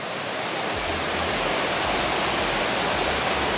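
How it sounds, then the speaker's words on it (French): The top of a cascading waterfall at the Carbet falls roars as a dense, steady rush of water, loud and close and unchanging, with no voices. "Juste là à gauche, devant nous, c'est le haut de la chute, des cascades quoi."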